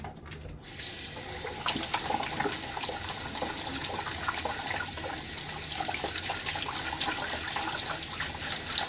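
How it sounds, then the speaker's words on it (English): A shaving brush is washed in a lather bowl under running water, a close, continuous splashing and gurgling that goes on steadily without talk. "I'm going to use my lather bowl here to wash my brush"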